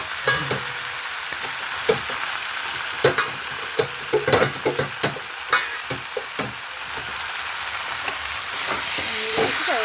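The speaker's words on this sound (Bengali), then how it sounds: "কাঁচকলা সিমটা দিয়ে একটু ভাজা ভাজা করে বসানো" Green banana and beans frying with spices in a pan, a steady loud sizzle and hiss broken by repeated scraping stirs, building to a louder surge of sizzling near the end.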